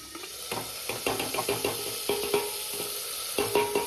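Tomato, chili and ginger fry in a pan under a constant hiss, punctuated by repeated close scraping stirs and knocks of a spatula against the pan in an irregular rhythm, with no talking.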